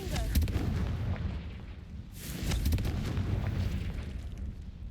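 Repeated Confringo blasting spells in Hogwarts Legacy burst into two big explosive booms a couple of seconds apart, surrounded by crackling debris and a dense low rumble in a combat scene.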